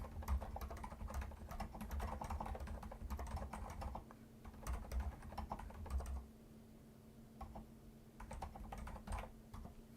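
Computer keyboard typing during a live coding session, steady bursts of keystrokes with brief pauses over a low constant hum, fairly close and moderately quiet.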